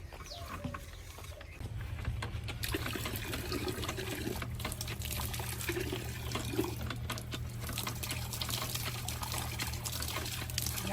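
Water gushes steadily from a hand-operated village water pump in rural Pakistan, a continuous near splashing flow that starts after a brief quieter moment and runs on with faint background sounds.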